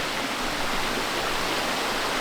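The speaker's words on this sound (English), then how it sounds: "That is the top of the waterfall there." Steady, dense rushing roar of water pouring over Little Mashel Falls near Eatonville, Washington, heard close and continuous with no voices.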